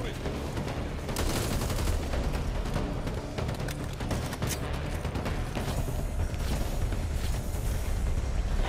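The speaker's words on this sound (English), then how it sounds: "I didn't mean to shoot that barrel." Gunfire in the Back 4 Blood video game crackles in dense, rapid bursts throughout, with a sharper blast as a barrel is shot and explodes, the loud, busy game mix continuing around it.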